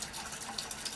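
Hot water runs steadily from a tap in a Sprinter van build, heated by a Tesla Model 3 battery pack through an inverter; a continuous close hiss of flowing water with slight splashing variations.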